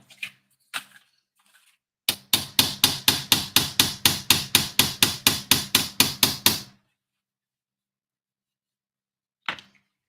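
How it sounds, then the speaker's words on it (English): Close, sharp hammer taps drive small pieces into the hull of a 1:15 scale OcCre Calella Bot de Llum model boat: a few isolated knocks, then a fast steady run of about eighteen blows, then a single final tap. "Hit it with a hammer."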